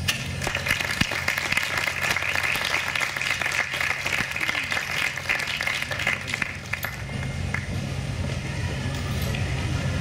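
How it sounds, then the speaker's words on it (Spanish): An audience at a university book presentation claps for guests seated at the panel table, steady dense applause filling most of the stretch before easing off near the end. "a quien pido saludar con fuertes aplausos"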